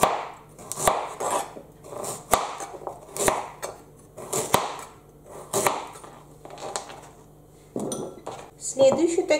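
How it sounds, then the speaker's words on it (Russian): A knife chops parsnip on a cutting board for a carrot and parsnip soup, giving repeated sharp knocks at an uneven rhythm, close and clear, with light clatter of kitchenware between strokes. "нарезаем пастернак."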